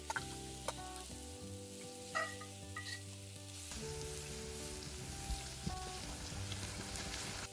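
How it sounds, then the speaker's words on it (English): Onions frying in a cast iron pan over an open fire, a soft continuous sizzle and crackle with occasional clicks and stirring sounds, fairly faint, no talking. "While our onions are frying off nicely there,"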